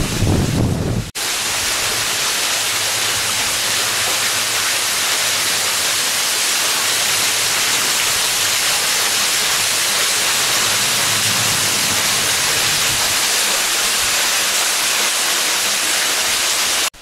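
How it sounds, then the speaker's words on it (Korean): Yongchu Falls roars loud and unbroken, a dense wash of rushing water that fills the whole stretch without pause. "용축폭포에 왔습니다."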